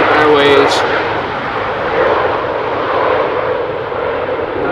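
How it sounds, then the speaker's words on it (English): A German Airways Embraer 190 arrives on windy runway 18R at Amsterdam Schiphol, its engine roar a steady, loud broadband rush sustained over the whole stretch with wind noise; a brief voice is heard near the start. "It was an Embraer 190"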